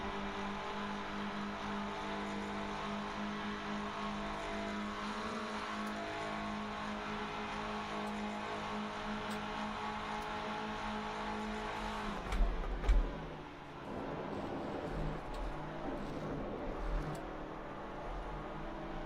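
A race car's engine drones at around 5,000 RPM in a PS5 racing game, a steady mid-level tone with a brief louder surge partway through and no talking.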